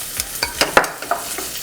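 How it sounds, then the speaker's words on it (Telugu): Mutton in a pan is stirred with turmeric and ginger garlic paste. About seven quick scraping strokes fall in a steady rhythm over a soft background sizzle, close up, with no talking. "దీన్ని మెల్లిగా మిక్స్ చేసుకుందాం"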